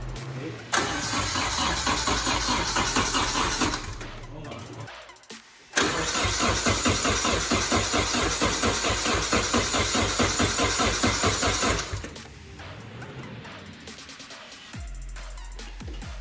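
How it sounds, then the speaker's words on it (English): A Nissan 240SX engine cranks over with a rapid, loud starter chug in two long bursts, stumbling and failing to catch, with a short pause between and a quieter tail at the end. "We've been cranking it a bit now, no luck yet. It stumbled there for a minute."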